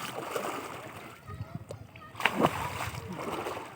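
Feet splashing through river water while walking, a few close sloshing splashes between quieter moments, with a person talking softly nearby.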